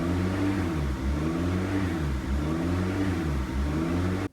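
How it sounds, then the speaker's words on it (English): A car engine idles erratically with a surging idle, its revs rising and falling in a steady repeating wave of about five cycles that ends abruptly. "Does your car have an erratic surging idle like this?"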